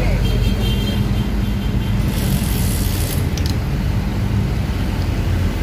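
Patas non-economy intercity bus from Sugeng Rahayu arriving at a crowded terminal in the evening during the holiday exodus, a steady loud engine rumble with busy traffic noise throughout.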